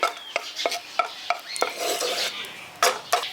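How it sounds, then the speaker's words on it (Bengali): Cardamom pods fry lightly in a pan for village-style carrot suji halwa, with a soft sizzle under repeated sharp clinks of a spoon striking the pan in irregular bursts, close and moderately loud. "এলাচটা দিয়ে হালকা একটু ভেজে নিচ্ছি"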